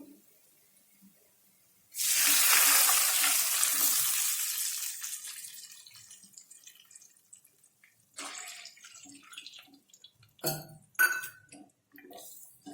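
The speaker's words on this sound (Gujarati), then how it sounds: "હવે આની અંદર આપણે પાણી એડ કરીશું।" Water poured into a cooking pot for a raw potato snack, a loud rushing splash that starts abruptly and gradually fades, followed by clinks of utensils and a few drips, close by with no talk.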